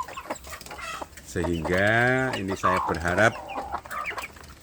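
Free-range village chicks kept with their mother hen cluck and peep close by, with one drawn-out hen call standing out, while someone talks over the birds.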